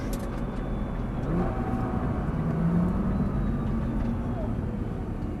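A Nissan GT-R on a circuit near Paris eases off to enter the pits, a steady low engine rumble from inside the car with faint tones drifting, while a voice speaks over it.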